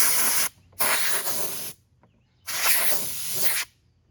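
Two bursts of hissing spray, each about a second long, separated by short silences, close and fairly loud.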